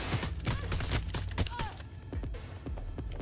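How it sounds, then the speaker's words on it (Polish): Gunfire from the video game Cyberpunk 2077: a rapid string of sharp shots, close and loud, with a couple of later bursts and some mechanical clatter in between. "Słyszałam strzał."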